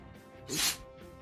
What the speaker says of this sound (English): I like the sneeze is their attack